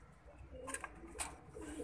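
Pigeons coo softly in the background, with low murmuring calls over faint ambient noise.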